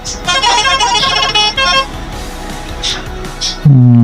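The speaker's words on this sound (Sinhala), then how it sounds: "ඔයාලට මෙන්න මේ හෝන් එකක් ගාලා මේ වාහන අයින් කරගන්න පුළුවන් මචං" Bus horn honking in the Bus Simulator Indonesia game during a beach ride, a loud, sustained tonal blast with engine hum beneath, cutting off sharply near the end.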